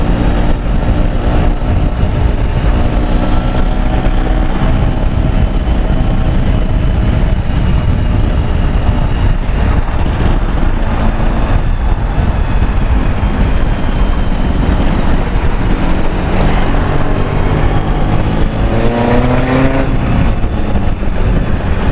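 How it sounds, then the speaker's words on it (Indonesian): A motorcycle ridden along an alternative route toward Puncak, its engine droning loud and steady throughout with rising and falling pitch as the rider shifts and accelerates, wind rumble underneath. "Motor saya agak sedikit kurang stabil rasanya"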